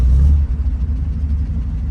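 A 1967 VW Type 3 Squareback engine idles close by, a steady loud low rumble with a slight uneven throb and no voices over it.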